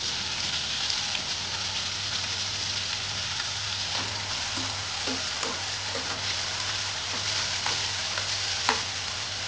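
Chopped onion and tomato sauté in a pan as dudhi bhopla (lauki) sabji is being cooked, giving a continuous close crackling sizzle with occasional soft stirring scrapes and no voices.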